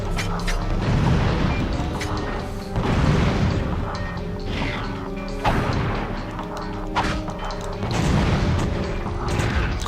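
Repeated bomb blasts and crashes from the Ratchet & Clank video game, several loud booming bursts spaced across the stretch over steady game music and mechanical clatter.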